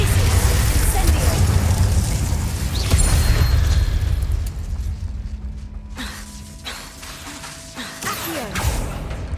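Incendio fire spell cast in Hogwarts Legacy, a loud whooshing fiery burst with crackling and rumbling that fades over several seconds, followed by quieter clanks and game ambience.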